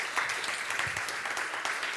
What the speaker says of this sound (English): You can give a warm round of applause.